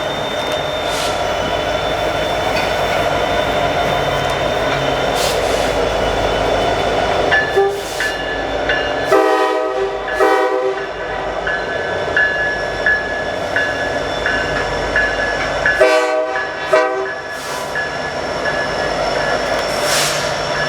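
Norfolk Southern helper locomotives, a light power move, rumble steadily past with rolling wheel noise, and two bursts of a loud multi-tone train horn sound midway through.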